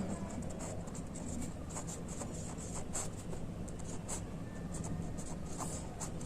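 Marker or chalk writing an English word's spelling on a classroom board, a steady continuous scratchy scraping with small strokes throughout and no speech.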